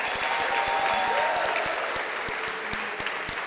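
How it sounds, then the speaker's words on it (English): An audience at a health summit breaks into a sustained round of applause, thick crowd clapping filling the hall with individual sharp claps popping out nearby, steady in level and tapering only a little near the end. "Can we give another round of applause for Mr."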